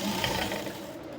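A sewing machine stitches the lower part of a jumpsuit, a brief, steady mechanical whir of close running stitches with no voices.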